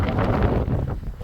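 Strong mountain wind at Sissu near Manali, in sub-zero cold, buffets the microphone in loud, rough, low gusts that rise and fall over a brief moment, with no speech.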